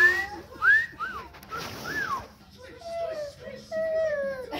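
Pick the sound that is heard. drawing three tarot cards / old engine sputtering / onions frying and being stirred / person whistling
person whistling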